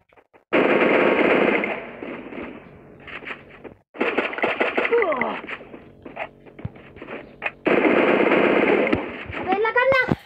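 Bursts of rapid automatic gunfire in the mobile battle royale game Free Fire, coming in several loud rattling volleys separated by short gaps, with clicks and chirping effects near the end.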